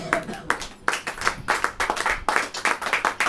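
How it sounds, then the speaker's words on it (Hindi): A church congregation claps together in a worship service, sharp rhythmic hand claps in a steady beat, close and lively, with a voice heard briefly at the start. "तालियों के साथ यीशु मसीह का स्वागत करिए।"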